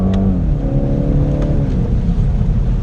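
Turbocharged four-cylinder engine of a 2018 BMW 430i F33 convertible accelerating, a loud steady drone with rising harmonic tones as revs climb, heard from inside the car without talk.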